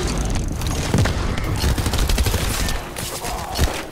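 Machine gun fire in The First Descendant during a public mission, loud rapid bursts of gunshots with booming impacts mixed into busy combat noise for several seconds.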